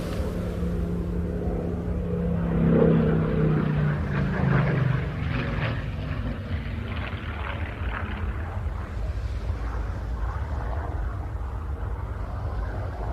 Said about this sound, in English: So that means P631 is the longest continuous serving aircraft of BBMF